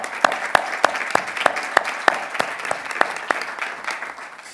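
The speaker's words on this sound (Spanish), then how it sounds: "Un aplauso." Audience at a Granada film industry event giving a round of applause, steady clapping from a modest crowd with a few sharp, distinct claps standing out near the front, holding throughout.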